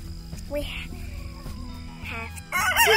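A Silkie rooster crows near the end, loud and close, after a few softer bird calls over a low humming background on a farm.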